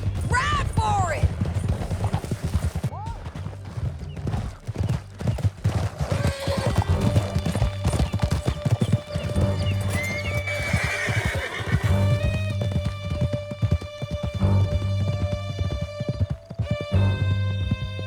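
Horses galloping and neighing in Red Dead Redemption 2, with dense rapid hoofbeats running throughout, repeated loud whinnies, and shouting voices and music mixed over the ride.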